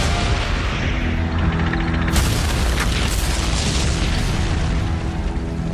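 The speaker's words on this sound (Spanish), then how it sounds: "Sin embargo, el tanque de Leach se para y un Panzer lo destruye." Heavy booming blast as a tank is destroyed by a Panzer in a tank battle, a loud, dense rumble with a sharp crack midway, followed by lingering roar.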